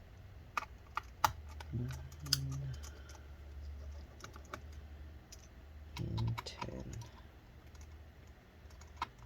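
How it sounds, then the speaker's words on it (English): Keys on a 2015 13-inch MacBook Pro A1502 keyboard, tested after a liquid spill, are pressed in scattered, irregular clicks and taps, fairly quiet, with a brief voice counting beneath. "first I'm actually going to test the keyboard."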